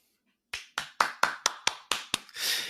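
Hand claps in a brisk series, about eight sharp slaps, close and fairly loud, ending in a short burst of broader applause-like clapping.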